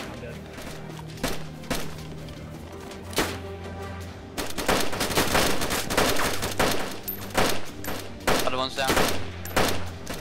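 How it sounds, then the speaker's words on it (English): Rifle gunfire in a DayZ multiplayer firefight, including Mosin shots, sounds as repeated sharp cracks and bursts, sparse at first and then dense and loud, with players talking over the shooting. "Who's shooting Mosin?"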